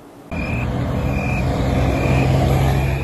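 Dense traffic on Provincial Highway 9 starts abruptly as a steady roar of engines and tires, with a faint high whine and a low engine hum building near the end.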